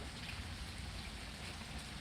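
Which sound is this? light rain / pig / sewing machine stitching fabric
light rain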